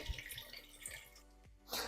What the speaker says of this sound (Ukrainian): Вода в баночках охолола, і я її виливаю у кастрюльку.